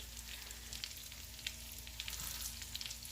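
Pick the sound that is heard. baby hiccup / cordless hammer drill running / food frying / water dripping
food frying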